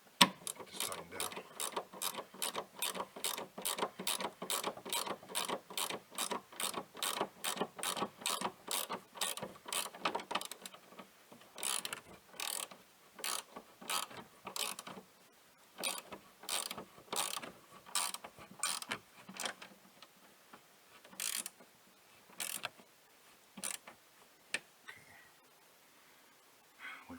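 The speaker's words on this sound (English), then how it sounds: "Grab ratcheting wrench and just tighten down." A ratcheting wrench tightens a bolt on grand prix suspension, giving a long series of crisp, close clicks in steady strokes that grow sparser and more uneven toward the end.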